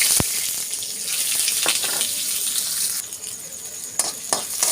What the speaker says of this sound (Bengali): পেঁয়াজটা একটু ভেজে নিয়ে